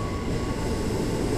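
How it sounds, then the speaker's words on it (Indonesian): A commuter train arriving at Kebayoran station in Jakarta, a continuous loud rumble rolling along the rails, with a steady roar and a faint high squeal, no voices. "Kereta sampai di stasiun Kebayoran."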